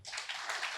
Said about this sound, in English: Now you clap for Nayudamma ji.